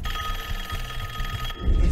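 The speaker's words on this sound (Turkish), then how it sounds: "Ah, telefon çalıyor." Telephone ringing in the video game Call of Duty: Black Ops 6, a steady bell-like ring sustained over dense game sound and low rumble, growing heavier toward the end.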